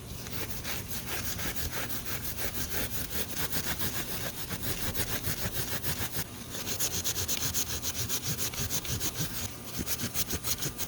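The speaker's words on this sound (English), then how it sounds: "That was just me using Scotch-Brite to polish up the blade." Scotch-Brite pad rubbing back and forth along a blade made from a bike chain, a close, steady rhythmic scrubbing with quick repeated strokes and brief pauses, no voices.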